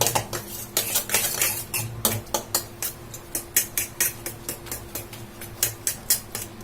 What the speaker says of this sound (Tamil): இந்த முட்டை சேமியா எல்லாமே நல்லா ஒன்னா கலக்கணும்